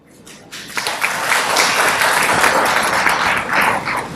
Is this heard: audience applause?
yes